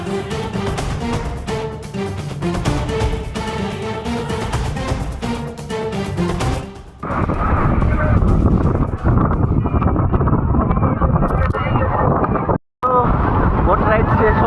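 Speedboat ride over waves at Digha, a loud continuous rush of engine, wind and spray buffeting the microphone, with a brief dropout near the end and voices mixed into the roar.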